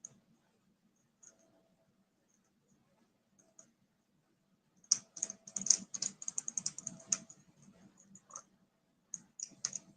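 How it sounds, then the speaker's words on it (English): Keyboard typing during a live-streamed nostalgia show: sparse single key clicks at first, then a dense burst of rapid clacking mid-clip, fading to a few scattered taps near the end, with no talk over it. "I'm gonna have to type mine in"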